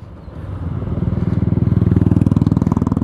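A motorcycle engine close by, starting as a low rumble and then settling into a loud, rapid pulsing idle with an even rhythmic throb.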